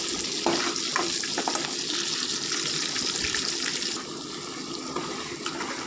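Onions and green chillies fry in oil for a fish curry, a loud, steady hiss and crackle that runs unbroken and eases slightly toward the end, with no voices.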